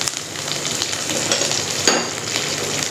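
Green chillies and curry leaves hit hot oil with spluttering cumin seeds and sizzle steadily in a pan, with crackles and a brief louder burst partway through and no voices.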